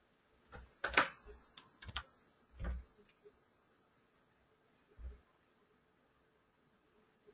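Quiet, sparse computer keyboard typing: a quick burst of key clicks near the start, a few more taps after, then one isolated press, all close and soft with no talk.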